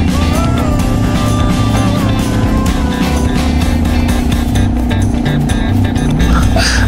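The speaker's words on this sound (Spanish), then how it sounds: "yo me estoy yendo con mi moto lineal, es una Guanxin 110" A Guanxin 110 street motorcycle rides along a road near Pachabamba in Huánuco, its engine giving a loud, continuous drone mixed with wind rush for the whole stretch.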